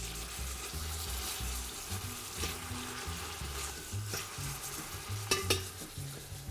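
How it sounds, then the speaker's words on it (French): Beef browning in olive oil in a pan for lasagne, a soft steady sizzle with scraping stirs and a few sharp clinks of a utensil, fairly faint and close, with no talking. "On va faire revenir notre viande."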